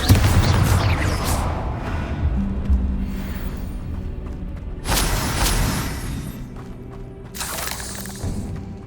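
Descendo spell casts in the wizarding game Hogwarts Legacy, with several loud crashing, shattering bursts and heavy booms at intervals amid rumbling battle noise, and no talk.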